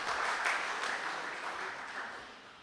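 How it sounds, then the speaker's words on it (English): Applause from the audience at a zonal community meeting in a community center, a broad wash of many hands clapping that starts strong and slowly tapers off over nearly three seconds. "Let's give them a round of applause for being here with us this evening."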